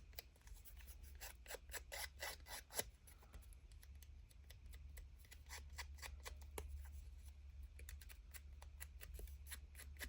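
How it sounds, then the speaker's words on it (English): Small craft scissors snip repeatedly while cutting paper for a Halloween junk journal, a run of quick, close, crisp clicks in uneven bursts against a quiet background. "let me use my little scissors."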